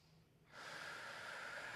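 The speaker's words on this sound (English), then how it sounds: "Nice calming breaths" A single deep breath during a Pilates mobility stretch in a deep squat position: a quiet pause, then a long, close, steady airy inhale or exhale through the nose that lasts over a second, with no one talking.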